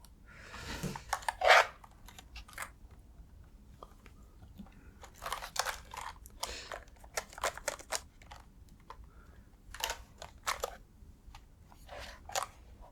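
A new computer keyboard, freshly unboxed late at night, gets a close, quiet typing session: irregular clusters of crisp key clacks separated by short pauses, with no talking.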